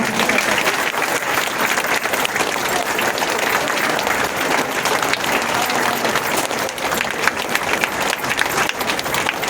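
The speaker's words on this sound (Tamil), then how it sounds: "உங்களுக்கு நீங்களே கைத்தட்டி மகிழ்ச்சியை தெரிவித்துக் கொள்ளுங்க" Sustained audience applause fills a hall during a World Heart Day heart health talk, dense and steady clapping from a large crowd without pause.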